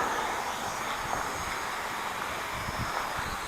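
A Hubsan X4 Desire H502S quadcopter drone landing, heard as a steady close airy motor whir with wind-like rushing throughout.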